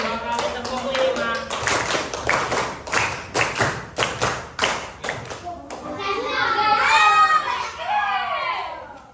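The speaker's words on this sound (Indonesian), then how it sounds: "Kali ini 2 kali tepuk 5" A primary school class claps a rhythm together, two rounds of five sharp, loud claps in quick succession, then the children burst into chatter and excited voices that fill the room.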